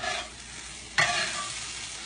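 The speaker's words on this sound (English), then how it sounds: "My rice is still frying over here." Soft sizzling as rice fries in a pan, with a sudden scrape of stirring midway that brightens the crackle before it settles again.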